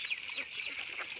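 Ducks on a small duck farm with shallow water, their nasal quacks and honks running steadily and fairly faint through the whole brief stretch, no talking over them.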